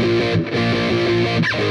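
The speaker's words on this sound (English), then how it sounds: "There's a new rhythm riff that comes in that the solo goes over top of" Heavily distorted electric guitar chugs a rhythm riff of palm-muted power chords from a song, steady and driving, loud and close with no voice over it.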